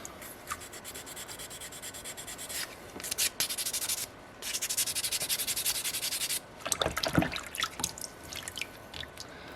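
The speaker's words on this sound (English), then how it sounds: "You can fold up to give yourself a nice little sanding stick" Abrasive sanding on soapstone with a folded sandpaper stick, quiet and close, coming in scratchy bursts of rubbing strokes with short pauses between them.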